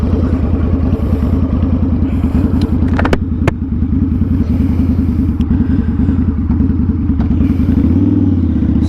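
A loud 2005 Harley-Davidson V-Rod with aftermarket Reinhardt racing pipes runs steadily up close while riding, with a deep, rumbling exhaust, a few brief clacks and shifts in engine tone along the way.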